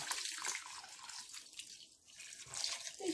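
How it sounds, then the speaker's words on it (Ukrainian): Water pours in a steady, splashing stream, close and fairly quiet, easing briefly before picking up again, as one litre of cold water goes over rice and meat for oven-baked pilaf. "І тепер зверху заливаємо однією літрою води"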